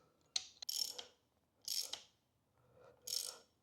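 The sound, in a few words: tightening Ducati fork top cap nut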